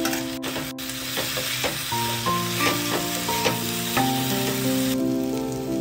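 Spiced vegetables fried and stirred together in a wok (kadai) for a vegetarian paneer curry, giving a steady, close sizzle with scraping stirs throughout, while faint tonal music sits underneath.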